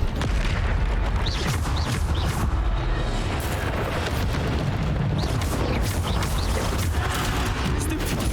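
Bombarda explosion spell blasts in the Hogwarts Legacy video game, a dense, loud stretch of booming impacts and rumbling debris over combat effects, continuous and heavy throughout.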